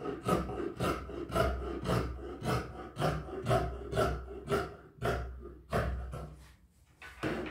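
Scissors cut a fabric sleeve with a half-centimetre seam allowance, a close, steady series of about a dozen rhythmic rasping snips with brief pauses between strokes, with no speech over it.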